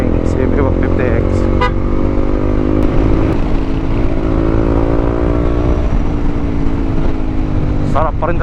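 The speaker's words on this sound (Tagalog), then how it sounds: "Sarap pa rin talaga yung arurot ng motor na to guys." A Honda CB150X motorcycle engine revs steadily while riding, its rising harmonic drone loud and close throughout, with brief chirps and a voice speaking over the engine near the end.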